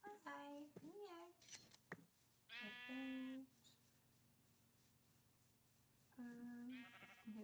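Sheep in Minecraft bleat twice, clear and close, with a few short squeaky animal calls before them and quiet gaps between.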